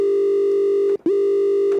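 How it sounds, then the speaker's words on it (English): A synthesizer note run through a low pass filter and a scream distortion effect, buzzy and harmonically rich, plays loud and steady, cuts off briefly near the midpoint, then sounds again at the same pitch. "Let's just turn on a low pass filter, add a little bit of distortion using the scream effect down here."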